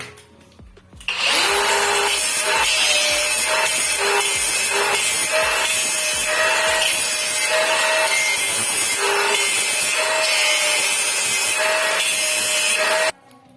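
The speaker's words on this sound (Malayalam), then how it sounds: "ഈ ഫിഷർ ഭാഗങ്ങളൊക്കെ നമ്മൾ ഇങ്ങനെ ആക്സോ ബ്ലേഡ് വെച്ച് ഇത് ഒഴിവാക്കണം." A hacksaw blade saws through plastic concealed cistern parts in a steady run of rhythmic back-and-forth strokes, loud and close for about twelve seconds, then stops abruptly.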